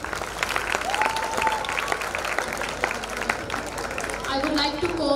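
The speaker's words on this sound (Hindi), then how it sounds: "अमीशा यादव गाइस तालियां बजा दो" Audience applause and clapping for the first runner-up at the Ayodhya Talent Hunt awards ceremony, steady dense clapping throughout with crowd noise and voices mixed in.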